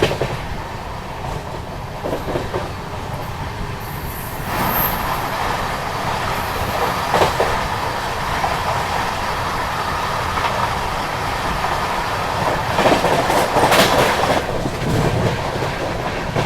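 The Sasaram–Dhanbad Intercity Express runs along the DFC-side line near a junction, a steady broadband rumble of rolling stock with faint rail clatter, heard continuously from nearby with no talk.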